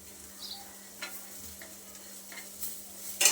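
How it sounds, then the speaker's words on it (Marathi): Sesame seeds fry with roasted onion in a pan, a faint low sizzle with a few soft scrapes and stirs, ending in a brief louder clatter. "आता आपण याच्यामध्ये तीळ घालूयात तीळ अगदी आपल्याला दोन मिनटासाठी कांद्यामध्ये परतून घ्यायचे"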